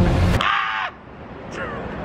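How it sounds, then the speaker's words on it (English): A single loud yell in an empty soccer stadium, Seattle's CenturyLink Field, cuts off sharply and a fainter delayed echo returns a moment later. "Did you hear the echo?"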